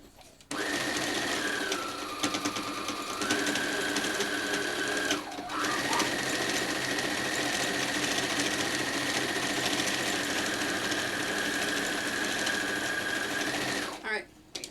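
A domestic sewing machine runs in long steady bursts while stitching quilt pieces, with a brief pause around the middle and a stop near the end. Its whirring motor drone stays loud and close, and talk can be heard beneath it.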